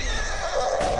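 Horse neighing in the video game Borderlands 2: a single loud, bright whinny that fills the whole second, rising and wavering near its middle, heard clearly without speech over it.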